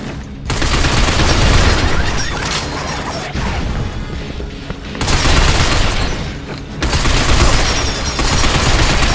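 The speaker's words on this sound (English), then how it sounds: "Watch out for that machine gun fire!" Sustained machine gun fire and heavy gunfire in the sci-fi shooter game Binary Domain, loud and dense bursts roaring almost without pause, broken by short gaps between barrages.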